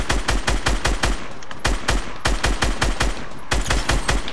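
Rapid automatic gunfire from the video game Fortnite crackles in loud, evenly spaced bursts of shots with brief gaps between volleys.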